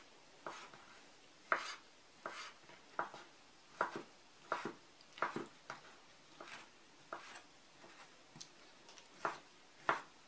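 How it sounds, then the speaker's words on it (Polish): Knife chopping very ripe, scalded tomatoes into thick cubes on a board, a series of soft, irregular thuds and taps spaced about half a second to a second apart, close and fairly quiet, with no talking. "Pomidory są bardzo dojrzałe, więc żeby się nie rozpadły, pokroję je na dość grubą kostkę."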